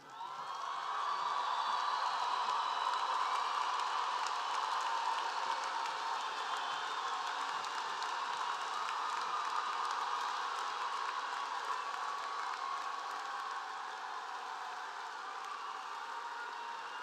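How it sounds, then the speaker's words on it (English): Sustained applause from an audience honoring bachelor's and master's graduates at a spring university commencement, a dense, steady wash of clapping with scattered whoops that tapers slightly toward the end. "Another round of applause for our graduates, ladies and gentlemen."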